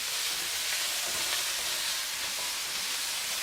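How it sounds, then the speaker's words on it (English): Meat thrown into very hot oil in a wok and quickly stir-fried, giving a steady, loud, hissing sizzle that holds without letup, with no voices. "heating up the oil really hot and then just throwing the meat at it"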